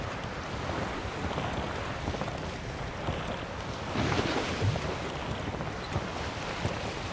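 A boat in The Witcher 3: Wild Hunt moves across choppy water with steady wind noise and rushing waves, a louder surge of splashing midway; no talking.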